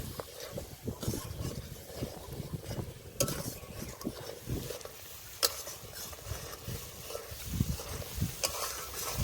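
Spices frying in oil in a pan with Kashmiri red chilli powder, ground coriander and a little sugar for katla fish kalia, stirred with scraping utensil strokes over a steady sizzle, close and moderately loud.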